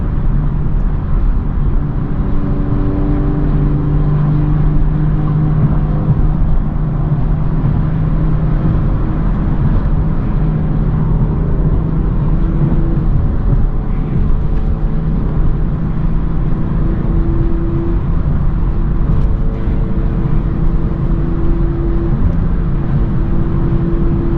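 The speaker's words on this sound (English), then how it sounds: "Step on my accelerator for a second." BMW M340i accelerating hard on the way to a cars-and-coffee meet, its engine a steady, droning roar with rising tonal pitch, heard close from inside the car throughout.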